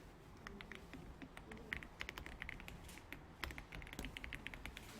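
Rapid clicking of computer keyboard keys, including the F7 key, being pressed, a steady patter of light taps close by.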